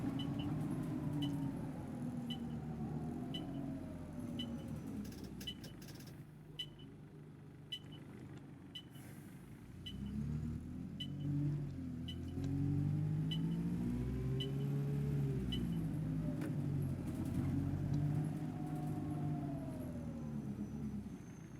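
Simulated London C200 bus in OMSI 2 driving the route 69 circular, a continuous engine drone whose pitch sweeps up and down through gear changes, with a faint regular ticking, likely an indicator, throughout.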